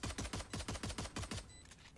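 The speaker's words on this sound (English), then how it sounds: "Just with the pistols, they're breaking the wall" Rapid pistol shots breaking a wall in Valorant, about a dozen sharp, evenly spaced cracks in quick succession that stop abruptly, leaving a faint tail.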